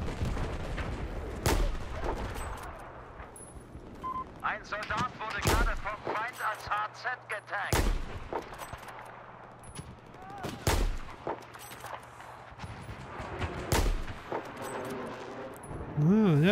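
Gunfire rings out in the Battlefield 4 multiplayer game: scattered single shots and short bursts, several sharp loud cracks spaced apart, with someone speaking German over quieter stretches in between.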